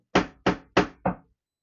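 Four sharp knocks on a door in an even, quick rhythm, close and clear with silence after.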